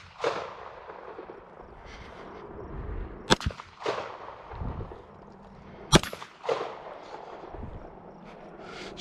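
Two sharp pistol shots ring out about three seconds apart at outdoor night shooting practice, each a loud isolated crack over a low rumbling background.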